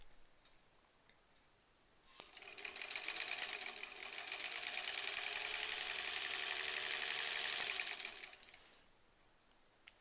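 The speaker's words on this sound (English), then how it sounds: "let's just sew onto our leader." A sewing machine stitches pieced quilt blocks onto a fabric leader, its rapid steady whir starting after a quiet moment, running evenly for about six seconds and then stopping.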